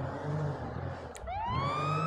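Police car siren in a roleplay video game, a sustained loud wail under engine-like hum, with a rising siren sweep starting midway and continuing to the end.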